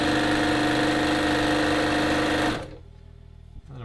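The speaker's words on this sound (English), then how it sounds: "I'm going to sew right off the edge at that dart point." Sewing machine stitching a dart in a men's dress shirt, a loud, steady motorized whir with rapid needle chatter that stops abruptly after about two and a half seconds, leaving near silence and a faint bump.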